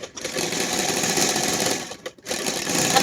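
A sewing machine runs steadily while stitching a pocket onto a pair of pants, its fast, even whirring breaking off briefly once before starting again close by.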